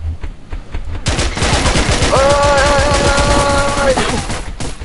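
Video game gunfire rips out in loud, rapid automatic bursts, a close and steady clatter of shots lasting several seconds. A voice is heard shouting partway through.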